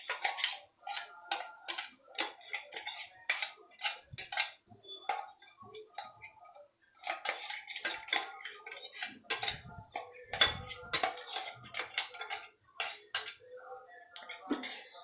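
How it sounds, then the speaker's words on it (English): Ginger garlic paste going into a pan for veg pulav and getting stirred, with a rapid run of metal clinks and scrapes against the pan, close and steady with brief pauses, a voice faintly under it. "So now I'm adding the ginger garlic paste."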